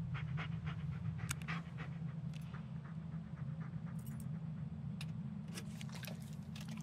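A dog companion pants steadily and rhythmically in the Blair Witch video game, the breathing close and continuous over a low constant rumble, with a few faint clicks and rustles scattered above.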